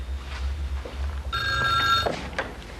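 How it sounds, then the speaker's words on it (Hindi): Old-style landline telephone bell rings in a short burst indoors during a drama scene, a single bright metallic ring standing out clearly over low room hum with no talk. "मैं सोच रहा था कि एक सेकंड में जरा टेलीफोन सुन लो।"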